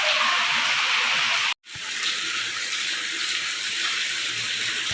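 Water runs steadily over fridge racks being washed at a sink, a continuous broadband splash interrupted by a brief pause before resuming.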